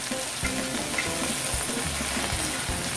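Beef browning in a frying pan while making a Brazilian vaca atolada stew, a steady dense sizzle and frying crackle with occasional stirring thumps, close and continuous with no talk.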